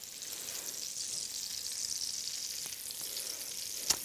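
Steady sizzling of chorizo frying in a hot pan while browning slowly, a continuous crackling hiss with a faint tap near the end.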